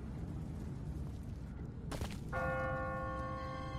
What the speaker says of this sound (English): What kind of church bell goes off at 20 past the hour?